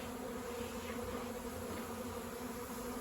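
Worker bees in a backyard beehive give a constant, close, dense buzz, steady throughout with no pauses.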